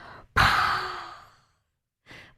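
A deep, audible exhale during a postpartum pelvic floor breathing exercise, one long breathy sigh that starts abruptly and fades over about a second, close to the mic, followed by the start of another breath.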